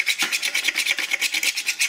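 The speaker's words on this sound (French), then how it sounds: "je vais donner un petit coup de lime juste pour enlever" Metal file rasping across a rail to scrape off dirt, in a quick, steady back-and-forth rhythm of short strokes, close and moderately loud, with no voices.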